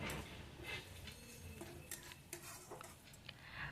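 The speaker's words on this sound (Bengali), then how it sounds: "আদা রসুন বাটাটা দেওয়ার পরেও আমি একটু ভালোভাবে কষিয়ে নিচ্ছি" Ginger-garlic paste and onions being stir-fried in a pan for a Bengali bottle gourd kofta curry, with repeated scraping and stirring clinks of a utensil over a soft, steady sizzle, fairly quiet.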